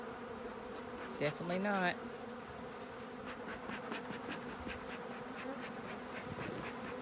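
A box full of honeybees hums with a constant low buzz throughout, while a short spoken phrase and a brief wavering tone rise over it near the start.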